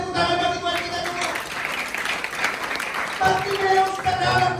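A church congregation claps together during a sermon, a steady wash of many hands that stays full and loud throughout, with a preacher's voice carrying over it.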